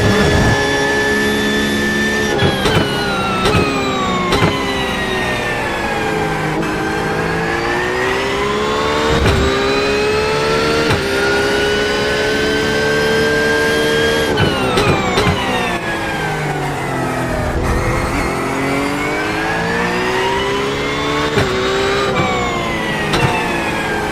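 Race car engine in the iRacing sim on a wet IMSA round at Algarve, revving loud and continuous for the full stretch, pitch sweeping up through the gears and dropping on lifts and downshifts, with no talk over it.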